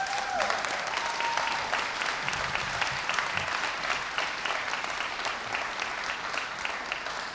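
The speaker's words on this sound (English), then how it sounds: "I want an applause on that one" Sustained applause from an audience at a mayor's public event on a transportation levy, a dense steady wash of clapping that holds at an even level throughout without speech over it.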